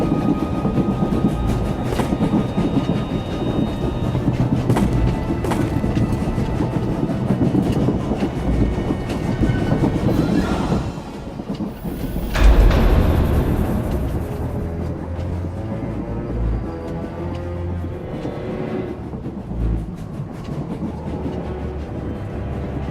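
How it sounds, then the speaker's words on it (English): A moving train rolls along with a loud, continuous rumble and rattling wheel clatter, briefly surging louder in the middle before settling back to a steady roar. "The train is on the move"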